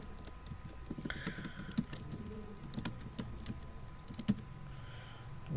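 Keys clatter on a computer keyboard as a web address is typed, a steady run of light, irregular clicks with a few sharper taps, close by over a faint background hum and no talking.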